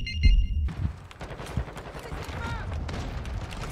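Video game LMG fire rattles in rapid bursts amid electronic chimes and effects, fairly loud and mixed with other game sounds.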